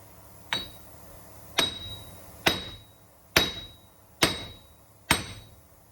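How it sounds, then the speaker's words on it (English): Six sharp metallic hammer strikes on a seized wheel hub assembly of a 2004 Dodge Grand Caravan, evenly spaced about a second apart, each ringing briefly before fading. "let's go back to the hammer"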